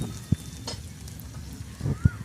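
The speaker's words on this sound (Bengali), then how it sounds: "এটাও এর মধ্যে এখন তেলের মধ্যে দিয়ে খুব ভালোভাবে ভেজে নিতে হবে 1 মিনিটের মতো" Crushed ginger fries in hot oil, a soft, even sizzle close by with a few dull spoon knocks against the pan, and no one speaking.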